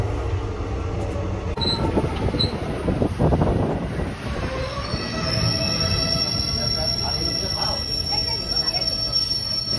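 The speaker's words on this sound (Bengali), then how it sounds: "এই আমোদপুর জংশনের 1 নম্বর প্ল্যাটফর্মে ট্রেন ঢুকেছে" A Ganadevta Express train rolls into platform 1 at Amodpur Junction, a steady rumble of railcars with squealing wheels and faint high whines, loud and continuous, with people's voices mixed in.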